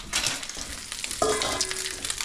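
Sausage cooking in batches in a hot wok for a day-old pasta stir-fry, with a bright continuous sizzle and scattered crackles, plus a brief metallic scrape partway through.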